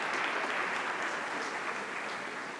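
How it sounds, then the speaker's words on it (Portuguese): Applause fills a church youth gathering, a dense, steady wash of many hands clapping that holds at an even level from start to finish without a break. "Uma salva de palmas para os meninos"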